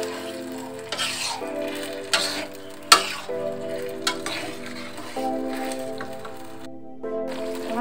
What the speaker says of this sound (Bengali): তো আমি এগুলো 2-3 মিনিট খুব সুন্দরভাবে কষিয়ে নেব।